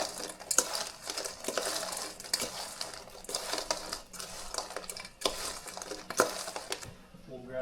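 Stirring sautéed bagoong (Filipino shrimp paste) in a pan while cooking binagoongan with eggplant: repeated scraping and clinking of a utensil against the pan, close and fairly loud, with uneven rhythm and sharp metallic knocks.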